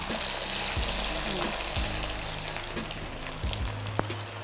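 Hot oil sizzles steadily in a frying pan in a Konkani home kitchen, a continuous close crackling hiss with a low hum underneath and a faint voice in the background.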